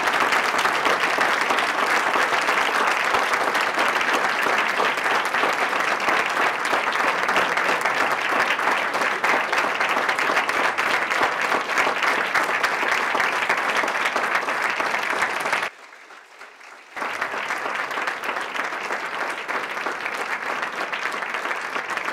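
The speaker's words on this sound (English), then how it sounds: "thank their spouses, partners, kids, parents, and friends for their critical support over the years with a warm round of applause" Graduation ceremony audience of an executive MBA class breaking into a warm, sustained round of applause, loud and dense throughout, with a brief near-silent gap late on before the clapping resumes.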